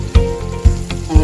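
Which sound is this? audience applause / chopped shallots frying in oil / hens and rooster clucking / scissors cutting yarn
chopped shallots frying in oil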